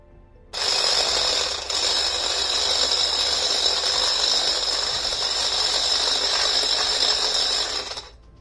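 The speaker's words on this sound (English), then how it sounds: "I'm going to start whisking." Whipping cream being whisked with vanilla extract in a kitchen, most likely with an electric mixer: a steady, close whirring buzz that starts abruptly, holds evenly for about seven seconds and then stops, with no voices.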